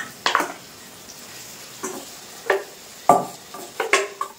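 A spoon scraping and knocking against a pot while boiled jackfruit seeds are stirred with spices for dal, several separate clinks and scrapes spaced irregularly, close and fairly quiet, with no talking.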